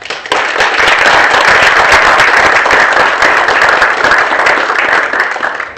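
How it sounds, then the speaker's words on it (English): A crowd at an innovation prize-giving ceremony breaks into loud, sustained applause for Professor Sebastiani, with dense clapping starting abruptly and holding strong for several seconds. "I think we need to give Professor Sebastiani a round of applause"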